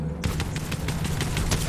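Rapid automatic gunfire in the battle royale game Fortnite, a dense stream of close, loud shots firing nonstop after a brief quiet start, with no talk over it.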